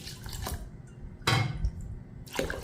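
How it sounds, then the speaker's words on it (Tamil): Water poured onto Mappillai Samba rice in a kitchen vessel, with three separate splashing pours and drips, close and fairly quiet, no talking. "இப்போ வந்து நம்ம நல்ல தண்ணியை ஊற்றிக்குவோம்"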